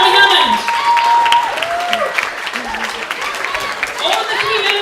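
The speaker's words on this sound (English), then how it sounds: "Stand up and give them a round of applause." Applause at a youth forum tournament winners announcement: a crowd claps steadily in a hall while a speaker's amplified voice talks over it throughout.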